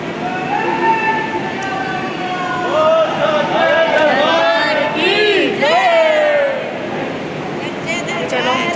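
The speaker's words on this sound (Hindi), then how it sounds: "जयकारा भी लगा दिया है।" Pilgrims at Katra railway station raising a loud collective jaikara chant, many voices rising together in rhythmic shouted calls amid crowd noise on the platform.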